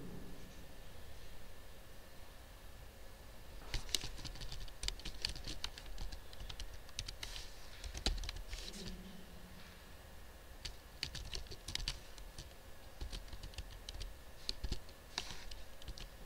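A computer keyboard is typed on in irregular runs of quick, light clicks, close but fairly quiet over a steady background hum, with brief pauses between bursts.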